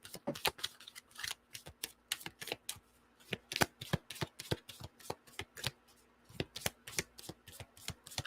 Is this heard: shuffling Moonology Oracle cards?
yes